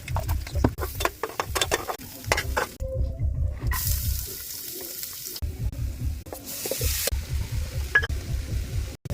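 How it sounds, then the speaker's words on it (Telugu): Three eggs drop into hot oil and fry, bringing bursts of crackling sizzle with rhythmic scraping and stirring knocks, a brief quieter gap, then renewed loud spitting, all close by. "ఆయిల్ హీట్ అయిందండి. 3 eggs అయితే వేస్తున్నాను."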